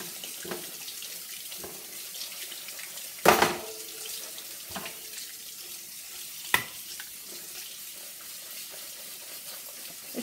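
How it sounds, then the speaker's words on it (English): A tap runs steadily into a sink, hissing cold water broken by a couple of louder splashes and clatters as chickpeas are rinsed under the stream. "It says to rinse them under cold water."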